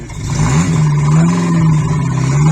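A Renault 5 engine runs up close with an unadjusted choke, its drone wavering and sagging unevenly instead of holding a steady idle.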